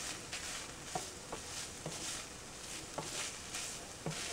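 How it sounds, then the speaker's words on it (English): A spoon stirs ground meat in spaghetti sauce in a pan over medium heat, making soft scraping and a few light taps against the pan over a quiet, steady background hiss. "Let's stir this up some, so get the flavors going."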